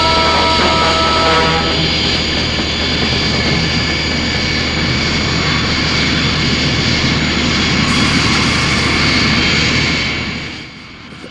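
A steady, loud jet-engine roar from the Thunderbird 2 transport aircraft, a TV model effect, holds constant with a hissing top end, then fades away at the end.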